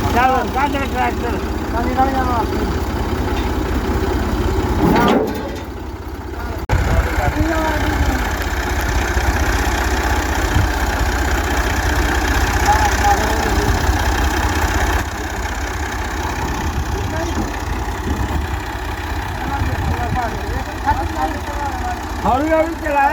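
A tractor engine idles steadily during a corn harvest, a continuous mid-to-low rumble that runs throughout, with voices talking over it.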